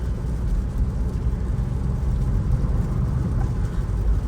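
A car with an automatic gearbox cruising in fifth gear gives a steady low engine drone and road rumble from inside the cabin, with no clear break at the shift.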